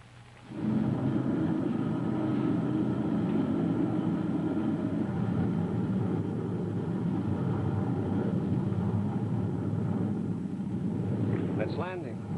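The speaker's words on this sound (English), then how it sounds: "Hear that, Sergeant? Sounded like a jet plane." A jet plane flies overhead and comes in to land, a loud steady roar of engine noise filling the scene with a rising whine near the end; people talk over it.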